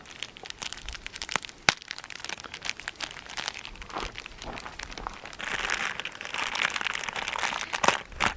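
Mylar aluminum Biffy Bag camp toilet being unwrapped from its masking tape and unrolled, a steady run of close crinkling and crackling with sharp crumples, growing denser and brighter toward the end.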